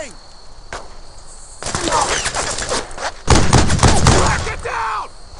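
Gunfire from the WWII shooter Brothers in Arms: Earned in Blood: dense bursts of rifle and machine-gun fire crackle loudly in rapid succession, building into a heavy fusillade, with shouted voices mixed in among the shots.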